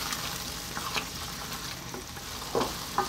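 Prawns sizzle in a pan of curry, a steady close frying hiss with small crackles and pops and occasional stirring scrapes, no voices over it.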